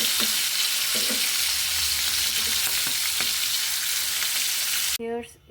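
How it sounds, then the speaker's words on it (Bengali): Hilsa fish frying lightly in a little oil makes a loud, dense, crackling sizzle with a few stirring knocks, close up. It cuts off abruptly near the end. "মাছটা আমি একটু ভেজে নিচ্ছি অল্প হালকা তেলে।"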